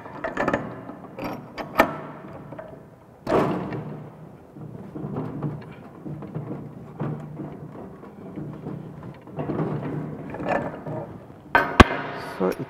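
Plumbing tools work a pump pipe connection during tightening, giving repeated close metallic clanks, scraping and ratcheting turns with sharp knocks, while a voice talks intermittently in the background.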